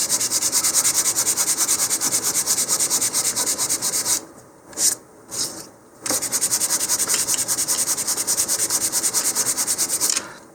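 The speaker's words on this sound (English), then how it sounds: "if you want an even smoother finish, you can follow that with some 220 grit sandpaper here" Model rocket parts being sanded by hand with 220 grit sandpaper, a close, steady rasping rub in quick strokes, pausing briefly midway with a few isolated scrapes before the rhythmic sanding resumes.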